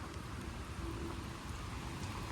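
Steady rain falls in Toronto, a dense, even hiss of drops on surfaces with no voices.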